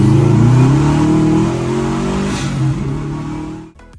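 A Factory Five 818 car engine drones loudly on a test drive, its pitch rising and easing, then the sound drops away abruptly near the end.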